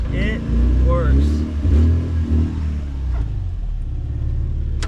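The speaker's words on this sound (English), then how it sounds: "Back to neutral, RPMs come up." Lexus SC300 with a swapped transmission revving in neutral, a loud, close engine roar rising and falling through the RPMs with brief overlapping speech.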